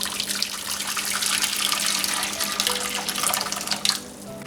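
Tap water gushes steadily into a pot for boiling potatoes in a home kitchen, a continuous close splashing rush that fades slightly near the end.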